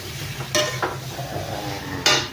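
Cauliflower and potato pieces frying in a pan, a steady sizzle broken by a few sharp scraping and clinking strokes of a spatula, close up.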